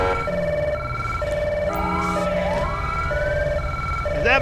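Two-tone police car siren in GTA 5 running the LSPDFR police mod, alternating pitches repeating steadily with rising whoop sweeps overlapping, loud and continuous.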